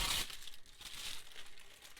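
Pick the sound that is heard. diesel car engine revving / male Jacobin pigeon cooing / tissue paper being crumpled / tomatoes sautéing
tissue paper being crumpled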